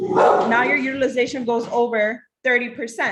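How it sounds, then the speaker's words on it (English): A dog barks and yips in short bursts close by, mixed in with a person's steady talking indoors. "now sorry, that's my dog."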